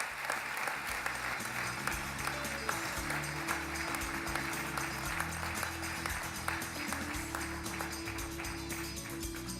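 An audience at an award ceremony claps to welcome award recipient Stephen Henning, a dense, sustained round of applause that fills the room without a break.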